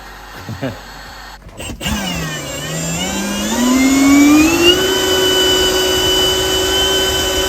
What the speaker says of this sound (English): this is the heat gun I always carry for winter camping